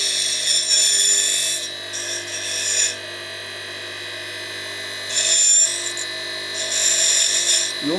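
A file rasps by hand across a precision metal part, taking it down toward a 4.5 dimension; steady scraping strokes come in loud bursts of a second or two, separated by quieter pauses, with no talking.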